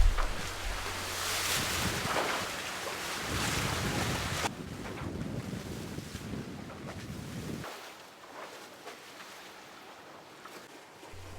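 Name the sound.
HH55 catamaran sailing at 9.5 knots in wind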